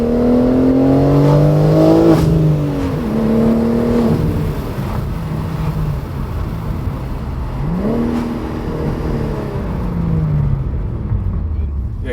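A BMW G80 M3 with an equal length mid-pipe revs hard through first and second gear, engine pitch rising and dropping in loud sweeping pulls as people talk over it inside the car.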